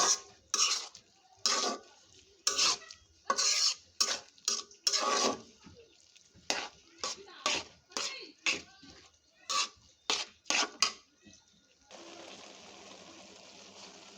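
Red amaranth greens with flat beans and their seeds stir-fried in a pan, a series of distinct scraping, clattering spatula strokes in an uneven rhythm, close and fairly loud, ending in a soft steady sizzle.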